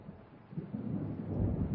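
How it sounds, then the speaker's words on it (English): Low rolling thunder from an approaching storm in the video game Alan Wake, a faint rumble that slowly swells louder over a couple of seconds with no voices. "It seems there's a storm coming."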